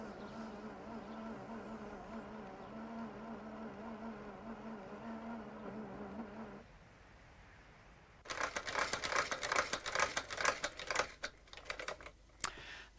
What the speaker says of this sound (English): This machine's actually a cobbler's machine used for sewing leather.